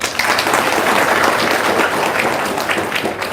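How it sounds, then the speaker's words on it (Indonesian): Loud, sustained applause from a sizable audience, a continuous wash of clapping hands filling the whole moment. "Tepuk tangan dong."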